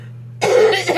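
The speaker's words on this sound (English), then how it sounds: "I coughed so hard the screen went dark for a second." A single hard, explosive human cough bursts out after a quiet moment, loud and close, with a rough throaty tail and a second smaller push at the end.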